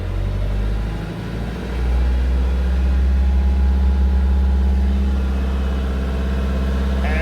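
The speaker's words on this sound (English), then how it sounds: "Let's increase the engine speed to nearly 2000 RPM, where we should have maximum output." A car engine, charging through its alternator, revs up to nearly 2000 RPM and holds there, giving a loud, steady low rumble after a brief dip near the start.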